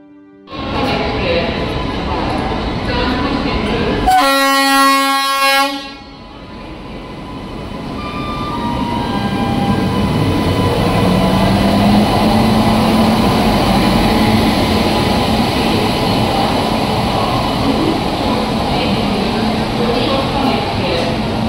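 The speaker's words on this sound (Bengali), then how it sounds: "তো ট্রেনও এবার ঢুকছে" A train rolls into a station with a loud horn blast early on, then a rising heavy rumble and rail clatter that grows and holds steady; a voice speaks at times.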